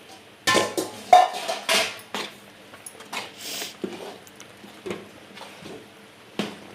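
Half a kilo of maida flour being mixed into dough in a pan, with a spoon scraping and clinking against the metal in irregular bursts, loud at first and then softer, with no talking.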